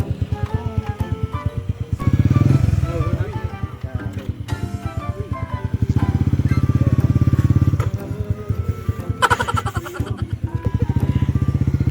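Manual motorcycle ridden along a provincial road at Christmas, its engine droning steadily and close with rises in revs, while people talk and call out over it.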